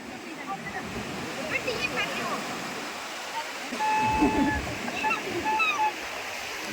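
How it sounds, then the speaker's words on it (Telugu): Sea waves wash onto a beach on the Bay of Bengal near Bhimavaram, a steady broad surf rush throughout with people talking faintly in the background. "ఏ ఒడ్డు నుంచి అని చూసినా ఇంకా అలలు ముందుకు వస్తాయి, వెనక్కి వెళ్తాయి"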